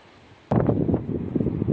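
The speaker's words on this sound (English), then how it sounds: "Oh, the wind is awful" Gusty wind buffets a microphone outdoors in a park in Galicia, northern Spain, starting abruptly as a loud low rumbling roar after a quiet moment and continuing unevenly.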